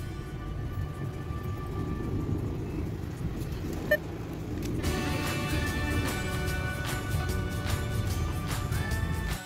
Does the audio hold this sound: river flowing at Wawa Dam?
no